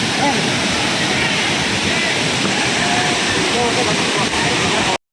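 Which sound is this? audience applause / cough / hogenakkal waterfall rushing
hogenakkal waterfall rushing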